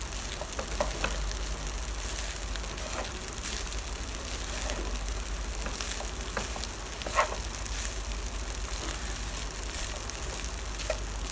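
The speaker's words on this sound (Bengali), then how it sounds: "এখন তো আরেকটু ভালো করে ফ্রাই করে নিব।" Malaysian chicken nasi goreng fries in a pan with a steady, close sizzle that runs throughout, broken by occasional soft clicks and scrapes of stirring.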